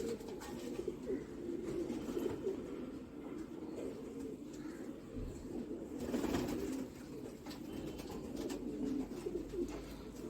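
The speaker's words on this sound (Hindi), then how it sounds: "ये काले मुंह वाले कबूतर है वहां के टोंक के अपने," Black-faced Tonk pigeon cooing softly and repeatedly in low rolling calls, close by, over a faint background hum.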